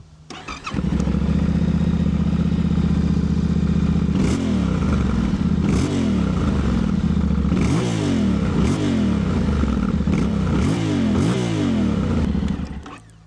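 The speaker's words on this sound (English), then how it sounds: "Talk about the exhaust, quick sound test." A 2024 Yamaha Tenere 700 motorcycle starts and idles loudly in neutral, then revs up sharply several times in quick succession before cutting off near the end, its exhaust tinny and raspy.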